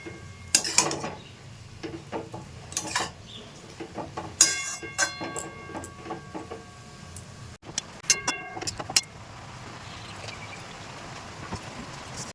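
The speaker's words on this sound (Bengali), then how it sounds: "অনবরত নাড়বো একটু" A utensil stirs a homemade holi colour mixture in a pan, producing irregular metallic clinks and scrapes in uneven bursts, with quieter gaps between clusters of sharper knocks.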